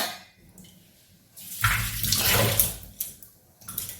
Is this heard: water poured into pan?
yes